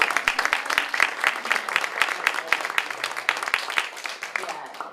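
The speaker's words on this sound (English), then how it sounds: "Give her one more hand clap" Audience applause for a performer at a live storytelling show about Harriet Tubman, steady clapping from a small crowd that continues evenly throughout, heard close and moderately loud.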